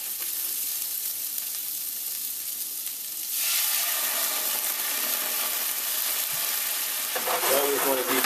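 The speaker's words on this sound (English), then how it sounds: "I'm going to deglaze this whole skillet, as I say, with the wine" A loud burst of sizzling erupts partway through as wine hits a hot skillet to deglaze it, a steady hiss, with a second surge near the end.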